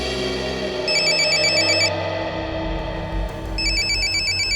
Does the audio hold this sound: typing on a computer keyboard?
no